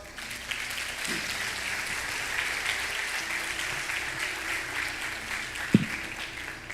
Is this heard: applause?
yes